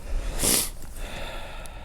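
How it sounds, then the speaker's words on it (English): A single short, sharp nasal sniffle from a person with a cold, close to the microphone, stands out against faint outdoor background noise at an RC flying field. "I apologize for the sniffles."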